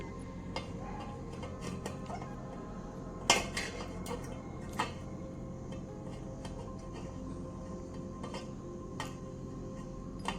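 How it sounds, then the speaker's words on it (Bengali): Kebab pieces are set one by one into a cooking pot, making quiet scattered clinks and taps of metal against metal in an otherwise calm room, with one sharper knock partway through. "এরকমভাবে কিন্তু একটা একটা করে কাবাবের পিসগুলো সাজিয়ে নিতে হবে"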